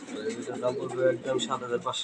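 Pigeons offered for sale, with low, soft cooing repeating under someone talking close by.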